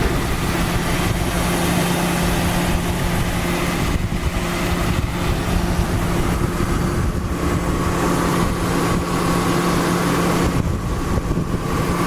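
A 2003 Ford Mustang 6-cylinder engine with just over 100,000 miles idles steadily with a constant low hum and droning tones, unchanging and close throughout.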